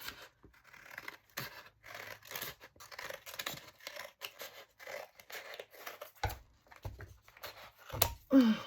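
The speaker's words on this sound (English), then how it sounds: "So I'm going to cut all the edges off, and then I can cut it down to size as I need" Scissors cut the edges off a large paper envelope in a series of close, crisp snips and paper scrapes, with short pauses between cuts.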